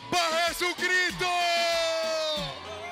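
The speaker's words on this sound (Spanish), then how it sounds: "Y ese grito de júbilo para Jesucristo." Crowd at a Christian concert in Guayaquil shouting with joy: a short burst of loud, overlapping cheers and whoops, with a voice calling out over the top.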